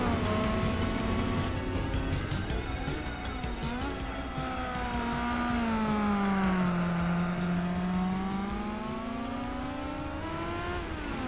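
Honda S2000 four-cylinder engine in Gran Turismo 4, revving loud and continuously, its pitch dipping and climbing again through gear changes with a smooth, high-revving tone.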